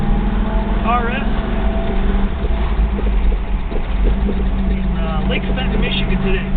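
A 1970½ Chevrolet Camaro Z-28 RS engine drones steadily during a test drive, a continuous loud rumble running beneath someone talking throughout.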